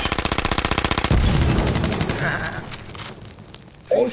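In the battle royale video game H1Z1, gunfire opens with a rapid, evenly spaced burst of loud shots, then a heavy boom with a rumbling tail, and one more sharp crack near the end.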